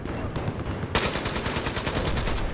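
Gunfire in Battlefield 4, loud and close, starting as scattered shots and then breaking into rapid automatic bursts of evenly spaced cracks, with no talking over it.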